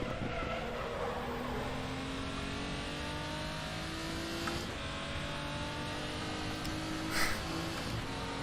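Race car in the RaceRoom Racing Experience sim skidding off track after entering a left-hand corner too fast, with a steady engine drone and long whining tire scrub, plus a brief bump near the end.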